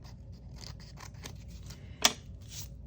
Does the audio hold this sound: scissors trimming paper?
yes